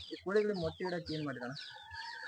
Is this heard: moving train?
no